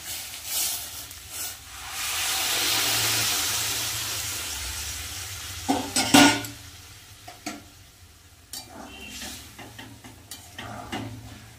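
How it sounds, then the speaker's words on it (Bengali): Hot water poured into a pot of simmering jackfruit and potato curry gives a broad rising hiss and sizzle that swells and fades, followed by a few sharp clinks and stirring knocks against the pot. "এবার গরম জল দিয়ে দেবো।"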